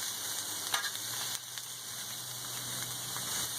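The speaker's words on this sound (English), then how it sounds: "Add some butter so our vegetables will continue to cook up here." Steady, close sizzling and crackling of vegetables frying in butter on a hot griddle, with a few faint clinks, no talking.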